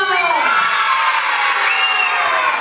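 Children at an Islamic kids' study session shout happily together in a loud, sustained crowd cheer that lasts a few seconds without a break.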